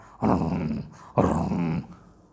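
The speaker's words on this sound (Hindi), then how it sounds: "कुत्ता भाव भाव करना शुरू करता, गुर्राने लगता है" A dog growls in two long, rough, rumbling bursts separated by a brief pause, close and fairly loud, with no barks evident.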